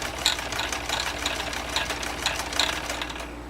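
A 1959 Kenmore 158.16410 sewing machine stitching through thick leather and nylon webbing, running at a slow, even pace with rhythmic needle clicks and a low motor hum, close up.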